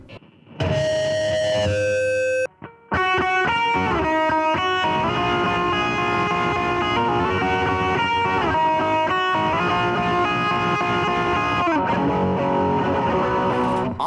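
An electric guitar runs through distortion and picks sustained, ringing arpeggiated notes. After a short cleaner phrase and a brief gap, it plays a long stretch of overdriven tones that ends in a final held chord.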